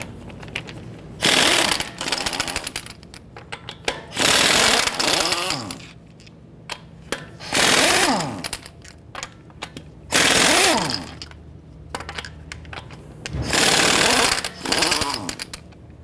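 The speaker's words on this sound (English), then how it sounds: "Using our 22mm socket, we're gonna go ahead, loosen, and remove our lug nuts." Lug nuts on a 2009-2015 Honda Pilot front wheel are loosened and removed with a 22mm socket on an impact wrench, giving loud repeated bursts of rattling hammering separated by short pauses, close up with no talking.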